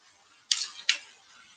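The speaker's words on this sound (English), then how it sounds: "I'm going to use the scissors this time to get these scraps." Scissors cut scraps during an IKEA upcycling project: two quick, crisp snips a fraction of a second apart, quiet and close, in an otherwise still room.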